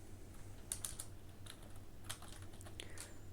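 Keys tapped on a computer keyboard while entering an Excel LEFT formula, a few short clustered clicks and small bursts at a moderate distance over steady low room hum, with no voices.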